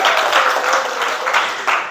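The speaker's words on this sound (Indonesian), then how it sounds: "Beri tepuk tangan dulu buat Nupus." A short burst of classroom clapping, fairly loud and close, with scattered uneven claps throughout.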